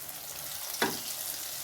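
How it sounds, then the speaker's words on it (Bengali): Something frying in a pan while being turned over on both sides, a steady broadband sizzle with one brief scraping flip about halfway through, close and fairly quiet. "এপিট ওপিট করে ভেজে নিচ্ছি লাল লাল করে"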